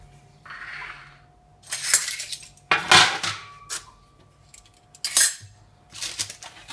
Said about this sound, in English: get the pan out of the oven